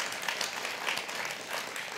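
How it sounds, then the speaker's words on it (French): An audience applauding the debaters at a French-language debate event, a dense, steady wash of many hands clapping throughout, fairly close and even in loudness. "je pense qu'on peut les applaudir"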